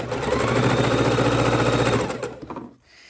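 A sewing machine runs continuously at close range, chain stitching fabric bowl holders with rapid even needle chatter for about two seconds before slowing and stopping.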